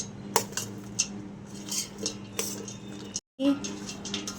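Punugulu chaat being mixed in a plate, with a spoon scraping and clinking against the dish in irregular close strokes, a steady faint background hum beneath.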